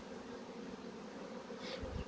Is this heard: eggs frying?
no